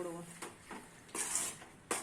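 Squid (kanava) fish masala with onion and tomato is stirred in a frying pan, faint sizzling broken by a few scraping strokes of a spoon against the pan, with a brief voice at the start.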